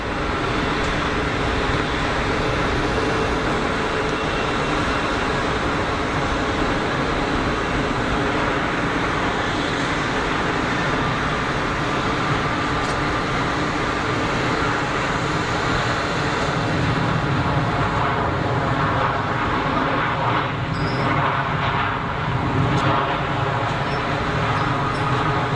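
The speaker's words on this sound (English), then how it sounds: "The spoilers out, ton of throttle on the reverses. Nice noisy arrival." An Air France Airbus lands at Geneva Airport with spoilers deployed and heavy reverse thrust, making a loud, steady roar that fills the whole stretch without letup.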